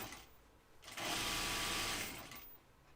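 Sewing machine stitching at a steady, fast whir for about a second and a half, close and loud, with quieter machine hum before and after; sewing jeans.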